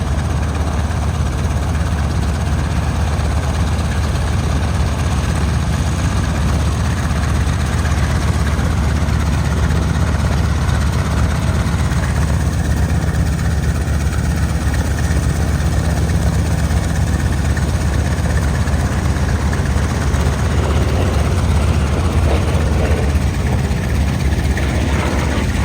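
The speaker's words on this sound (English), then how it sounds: "Getting airborne now, underneath one of the stars of our show, the Lockheed 12A." A vintage aircraft engine runs before take-off at the IWM Duxford summer airshow, a steady, loud low rumble and drone that holds throughout with no pauses and no talk.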